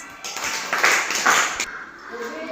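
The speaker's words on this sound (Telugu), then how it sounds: "Very good, claps." Children in a classroom clap together in a quick, scattered burst that swells twice and then trails off, with faint voices underneath.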